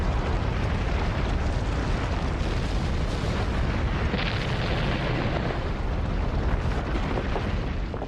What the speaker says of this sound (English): The force of the explosions is so powerful that blocks the size of cars are blasted out of the crater.